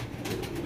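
A pair of Jacobin pigeons gives a brief low coo, close by, against a noisy background.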